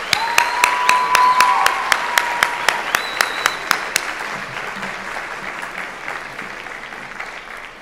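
Graduates at an optometry college convocation applaud their families in a large hall, sharp individual claps standing out early before the applause settles into a steady, dense roar that carries on without speech.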